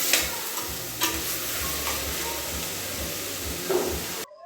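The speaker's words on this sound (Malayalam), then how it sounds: "ഇനി സവാളയും ചെറിയുള്ളിയൊക്കെ പെട്ടെന്ന് വഴണ്ടി വരാനായിട്ട് കുറച്ച് ഉപ്പ് ചേർത്ത് കൊടുക്കാം എന്നിട്ട് ഒന്നുകൂടെ ഒന്ന് മിക്സ് ചെയ്ത് കൊടുക്കാം" Onions and shallots with salt sautéing in a pan, steady close sizzle and hiss with a few scraping stirs as they are mixed, cutting off abruptly at the end.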